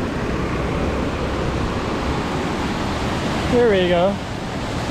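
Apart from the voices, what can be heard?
waterfall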